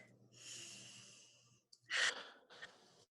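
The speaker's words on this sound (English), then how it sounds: "you take a deep breath" A slow, deep breath drawn in and let out during a calming breathing exercise, with one hand resting on the stomach. It sounds as a long, soft airy inhale followed by sharper, louder breathy exhales, close and quiet.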